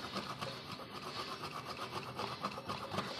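An ingredient for a homemade hair remedy is rubbed and grated by hand in quick, rough, repeated scraping strokes, faint and close with no talking.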